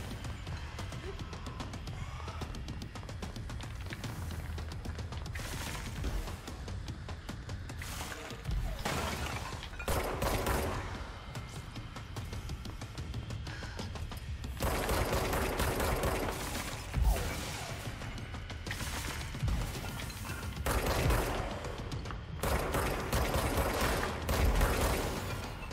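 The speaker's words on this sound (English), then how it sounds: "I'm basically just gonna shoot and dodge." Shooting during a boss fight in the video game Control, with continuous dense bursts of gunfire and crashing impacts layered over a steady game soundtrack, loud and busy throughout with no pause.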